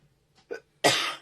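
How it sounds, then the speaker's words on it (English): A single close cough after a couple of small throat sounds, brief and loud, with no talking. "Sorry about that, coughing right at the camera."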